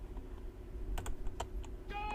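Keys tapped on a wireless USB computer keyboard, a few sparse, quiet clicks close by over a low steady hum.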